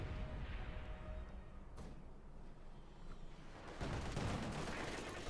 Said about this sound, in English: T-34 exchange with MG34 here